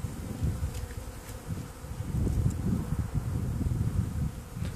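Honeybees swarm around an open wooden hive as a package colony is installed, a steady, close buzzing drone with individual bees flying past, alongside light rustling and faint wind.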